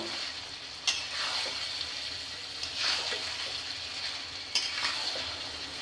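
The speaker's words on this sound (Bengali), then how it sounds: "তো এখন মাংসটা ভালো মতন কষাই নিব" Chicken meat with spices sautéing in a hot pan, a steady close sizzle with a few sharp spoon scrapes against the pan as it is stirred, no talking.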